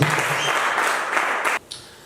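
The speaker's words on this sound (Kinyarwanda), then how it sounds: "Imana iguhereze umugisha wo gukomera amashyi menshi." A church congregation breaks into applause, a dense burst of clapping that holds for about a second and a half and then cuts off abruptly, leaving a brief quieter tail.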